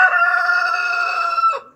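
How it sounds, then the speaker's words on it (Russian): A three-month-old rooster crows once, close and loud, a single drawn-out cock-a-doodle-doo lasting under two seconds that ends in a short drop, with no voices. "Но петух хороший."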